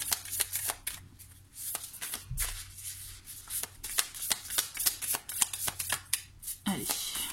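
Tarot cards shuffled by hand close up, a rapid series of crisp riffling flicks and slaps repeating steadily over several seconds, with someone speaking French quietly alongside.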